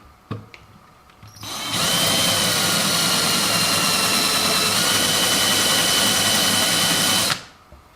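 A power drill whines at a steady high pitch for several seconds while fitting aluminium wheel hexes with larger pins onto a WLToys 144001 RC car, spinning up sharply, holding constant, then cutting off, close to the listener.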